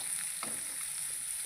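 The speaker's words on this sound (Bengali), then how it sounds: "তারপরে দিয়ে দেবো পেঁয়াজ কুচিটা ভালো করে একটু লাল লাল করে একটু বেরেস্তা" Chopped onions fry in hot oil over cumin seeds, browning for an egg curry, giving a steady close sizzle with a brief stir partway through.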